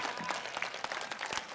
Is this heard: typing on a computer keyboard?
no